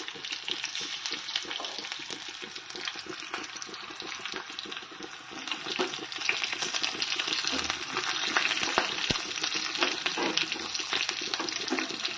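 A tempering of curry leaves and green chillies sizzling in hot oil, a dense continuous crackle and spatter heard up close, growing slightly louder toward the end, with no voices.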